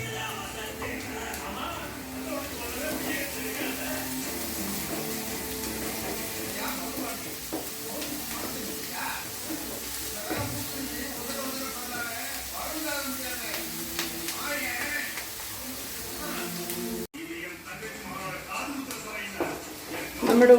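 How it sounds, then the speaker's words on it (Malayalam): Onions sautéing in a pan for chana masala, a steady soft sizzle with occasional stirring scrapes running beneath continuous talk. "നമ്മുടെ ഉള്ളി ഇവിടെ നന്നായി വഴന്ന് വന്നിട്ടുണ്ട്"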